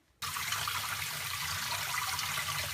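Running tap water pours steadily over cauliflower being washed in a kitchen sink, a constant close rush that starts abruptly and continues without talk.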